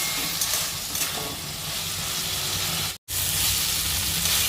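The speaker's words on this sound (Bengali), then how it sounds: "এবার মা এটা কষিয়ে নেবে" Spices and finely chopped winter vegetables sauté for moong dal in a pan. A dense, even sizzle runs throughout with light stirring, and it cuts out for a moment partway before resuming.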